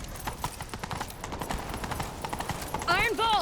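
A horse galloping in the video game The Witcher 3: Wild Hunt, rapid rhythmic hoofbeats throughout, with a whinny-like cry near the end and speech mixed in.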